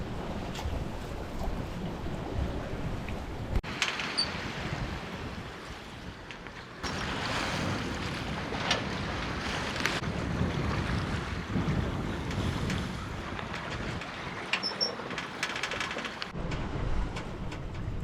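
Sailboat cruising under sail through wind and waves on a long solo passage, with steady gusty wind buffeting the microphone, water rushing and slapping along the hull, and no talk.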